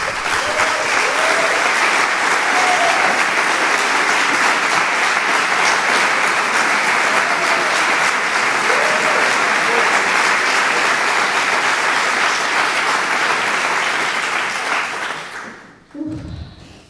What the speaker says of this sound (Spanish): Recibimos, por favor, con un fortísimo aplauso a Débora Sasa.